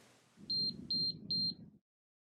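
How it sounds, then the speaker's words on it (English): An LEB wireless door lock's outside reader gives three evenly spaced high electronic beeps on powering up, close and clear over a low hum, then silence. "The outside reader will flash green and beep when the lock has successfully powered on."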